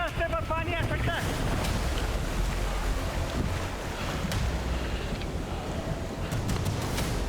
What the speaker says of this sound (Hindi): हम झरने के ठीक नीचे थे।